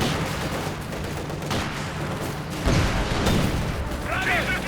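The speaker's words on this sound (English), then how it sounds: "Getting a lot of shots here in with the assault rifles and the regular rifles." Assault rifle and regular rifle fire crackles throughout a Company of Heroes 2 battle between infantry squads, with dense overlapping shots and a louder burst near the middle, under continuous game noise and talk.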